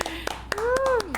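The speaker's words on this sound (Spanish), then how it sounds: "Un aplauso para Gina." A few sharp hand claps from a church ministry program audience, welcoming a guest, land briefly under a speaking voice.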